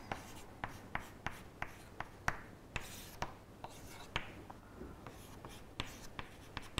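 Pen or chalk writing out a mathematical formula, a series of short sharp taps and scratchy strokes at an irregular rhythm, close and fairly quiet, with no talking.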